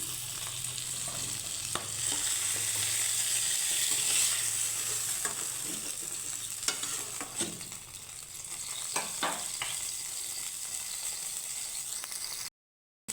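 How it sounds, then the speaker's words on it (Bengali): Pointed gourds (potol) sizzle in hot oil as they are lifted out after frying, a steady close crackle with a few scraping clinks of the utensil, tapering off near the end. "আমার পটলগুলো সুন্দর করে ভেজে নিয়েছি আমি এখন তুলে নেব পটলগুলো পটলগুলো তুলে নিচ্ছি"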